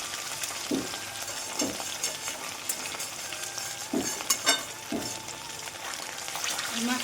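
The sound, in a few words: fish frying in pan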